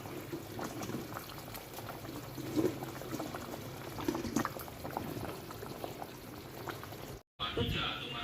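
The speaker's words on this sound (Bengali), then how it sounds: "আলুটা সেদ্ধ হয়ে গেছে, ঝোলটা ফুটে উঠেছে, এবার বড়াগুলো ছেড়ে দিলাম" Vegetarian curry broth with boiled potatoes bubbles in a pot as pea-lentil fritters are dropped in. A soft, continuous bubbling and simmering with small pops is heard up close, with a brief pause and splash near the end.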